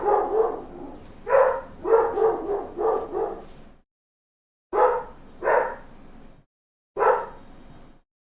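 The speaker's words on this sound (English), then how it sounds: "my dog was going off" A pet dog indoors at home barks in loud, close bursts: a rapid run of about six barks, a pause, then a few more spaced barks, set off by someone at the front door.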